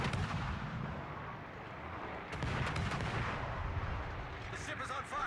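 Anti-aircraft guns firing in the naval video game World of Warships, rapid bursts of gunfire cracking over a dense background roar of battle, steady and loud throughout.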